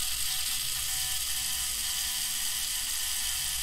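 A noisy gear reduction mechanism turns steadily under load, giving a continuous close whirring and ratcheting drone that stays level throughout with no pauses.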